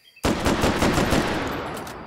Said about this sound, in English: That is a Browning automatic rifle, my friend.